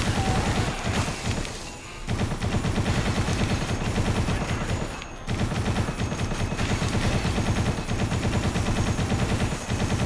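Frank's gun blasting in the Dead Rising video game, a dense run of rapid, loud shots that rattles on almost continuously, broken by two brief pauses, with no voices.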